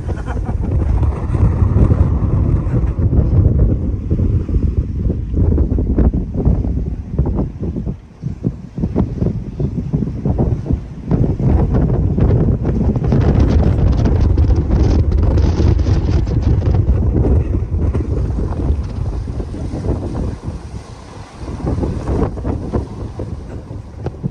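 Force 5 wind buffets a sailboat running under full mainsail and genoa off the Turkish coast, a loud, steady roar of gusts across the microphone with water rushing against the hull throughout.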